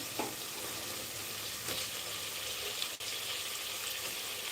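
Potatoes sizzle and fry steadily in a hot pan for khichdi, a continuous close crackling hiss with a few brief stirring clatters, no talking.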